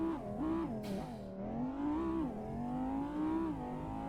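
A car engine in the online driving game Driving Empire revs and accelerates, its tone climbing and dipping in several waves as the car drives on. The sound is clear and steady, with no speech over it.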